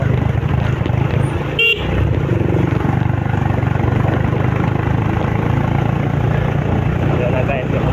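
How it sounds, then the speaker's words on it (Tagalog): Motorcycle engine out of gasoline sputtering and popping, a continuous rough low rumble running throughout with a brief horn-like toot, voice talking over it. "nagputok-putok ng motor ko"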